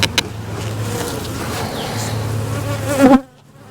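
Honey bees buzz around an open hive as the supers go back on, a close, continuous droning hum with individual bees passing nearby before it cuts off abruptly near the end.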